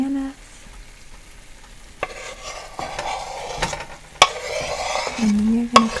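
Sliced bananas cook in a boiling maple vanilla mixture, bubbling and sizzling softly with occasional sharp clicks and scrapes of a utensil against the pan.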